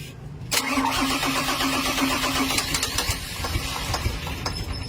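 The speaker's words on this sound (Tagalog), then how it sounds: "Nung tinanggalan natin ng wire yung injector number 2, hirap nang umandar yung engine natin." Mitsubishi Fighter truck with a 6M60 diesel engine, injector number 2 wire removed, cranking then catching into a rough, uneven idle with irregular knocks, loud and close.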